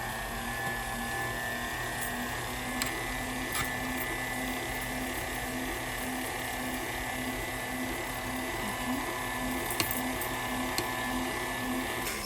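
Electric mixer with a whisk attachment beating carrot cake batter, a steady continuous whir with a sustained mid tone running unbroken, moderately loud and close with no voices over it.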